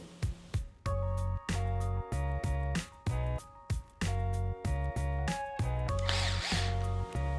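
A power drill drives screws into the bead-lock ring of a 1.9-inch crawler wheel, giving loud whirring bursts of about half a second each, cut by short stops, close up and with no talk.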